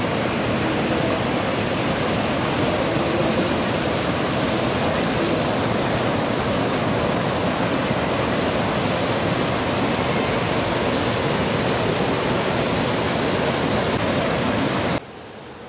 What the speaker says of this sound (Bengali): ফলসের একেবারে সামনে এসে জলপ্রপাতের দৃশ্য দেখে মুগ্ধ হতে হয়